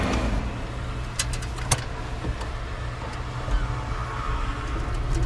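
Esemka Bima 1200 cc car engine idling steadily with a low, continuous rumble, heard up close, with a few brief clicks and knocks over the running engine and no talking.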